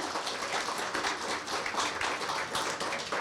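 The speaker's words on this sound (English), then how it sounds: "So please give her a round of applause." Audience clapping at a moderate distance, a loose, uneven round of applause from a modest crowd at a library bird presentation.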